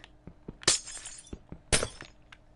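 Glass breaks in the Minecraft video game on PS4, with two bright shattering bursts about a second apart and light clicking in between, close and distinct.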